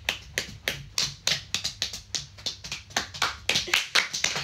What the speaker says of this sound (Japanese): 強制拍手。